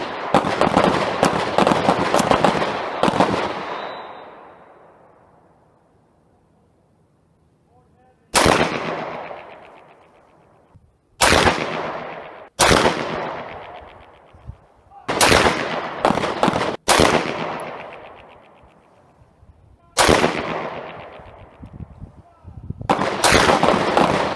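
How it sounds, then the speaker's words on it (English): A SIG M17 pistol fires SIG 115 grain green ammunition on a range: a rapid burst of loud, close shots, a pause, then single cracks spaced a second or two apart, each with a short ringing echo. "go back and shoot the next ammo. Next up, SIG 115 green."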